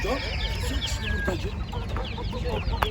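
Sussex and Brahma chickens cluck and squawk at a poultry market, several birds calling close together in quick overlapping bursts over a busy background murmur.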